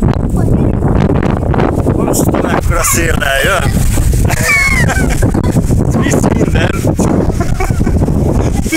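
Strong, gusty wind from an arriving thunderstorm in Kaposvár roars loudly and steadily against the microphone throughout, with people talking underneath it.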